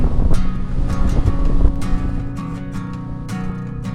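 Steady wind buffets the microphone with low rumbling gusts on São Miguel in the Azores, joined by clinking, rattling sounds throughout; no one speaks.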